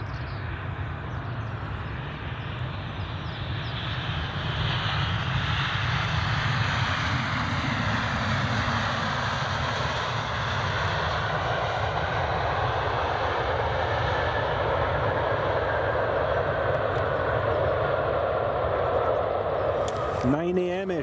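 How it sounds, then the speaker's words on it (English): A Ryanair airliner approaches Edinburgh Airport with a steady broadband jet roar that swells after the first few seconds and holds loud and continuous to the end. "here comes Ryanair"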